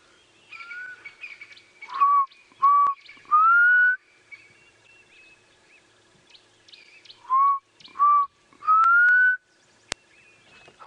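A person whistles an imitation of a black cuckoo call on a sunrise safari drive, two phrases of three clear notes each, the first two short and level, the last longer and rising, close and loud.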